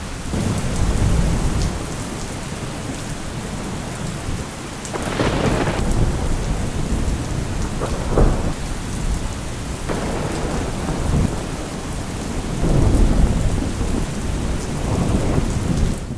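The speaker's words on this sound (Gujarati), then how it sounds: "ભારે પવન સાથે સોળ ઇંચ વરસાદ પડતા" Heavy rain pours down steadily with gusty wind, loud and close, and deep rumbles of thunder roll in several times during a flooding downpour of about sixteen inches in Suigam, Gujarat.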